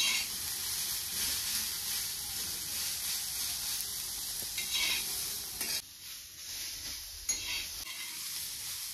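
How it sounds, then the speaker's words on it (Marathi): Onions frying on a high gas flame for onion paratha filling, stirred continuously in a pan: a steady close sizzle with scraping stirs throughout, loud and alone with no talk. "त्याला सारखं हलवत राहायचं आहे। म्हणजे खालची बाजू वर होईल, वरची बाजू खाली होईल।"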